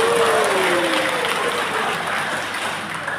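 An audience breaks into sustained applause, a loud dense clatter of clapping that starts strong and slowly thins out.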